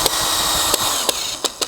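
A high-torque power drill runs in a continuous loud whine, punctuated by several sharp clicks or knocks at irregular intervals, with no talk.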